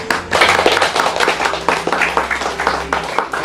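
A church congregation at a Christmas gathering claps for the regional leaders, a loud, close patter of many hands with distinct sharp claps in an uneven rhythm, with a low hum underneath.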